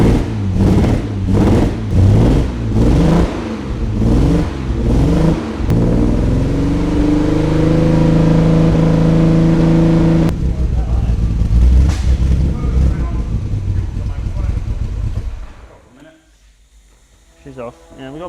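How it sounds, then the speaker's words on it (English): A Jaguar XK120 engine cranks in a rapid rhythmic series, catches and runs roughly with a big misfire, loud and close, before settling and fading, with people talking over it. "She's off. Yeah, we've got a big misfire"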